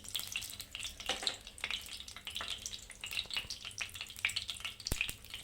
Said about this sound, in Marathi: तर तेल टाकले मी, तर मी आता हे तेजपत्ता टाकते, परतून घ्यायचे